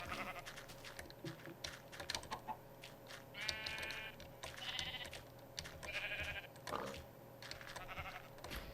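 Several sheep bleat in turn in Minecraft over a busy background of clicking and ambient noise, the calls moderately loud and spaced a second or so apart.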